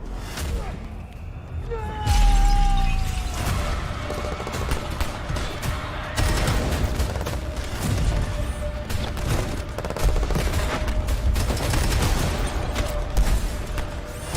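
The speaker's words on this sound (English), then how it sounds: "Shots fired." During a live video game showcase, dense volleys of rapid gunfire crack in loud, overlapping bursts. A sustained whistling tone and scattered impacts run beneath the shooting for most of the stretch.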